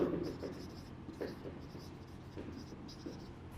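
Marker or chalk writing on a classroom board during an English literature lesson, with steady scratchy strokes running through the clip alongside a teacher's voice.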